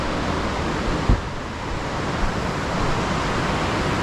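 Whitewater on the Horsepasture River rushes in a steady, loud, broadband roar that fills the whole span without letup, with no voices.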